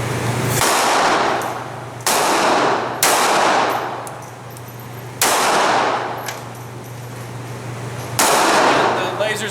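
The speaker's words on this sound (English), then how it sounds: "Let's fire out the next 2 shots and just get an overall feel." Taurus Curve pistol fired at a shooting range: four sharp, loud gunshots at irregular intervals, each ringing out and decaying, with a steady low hum beneath and no talking.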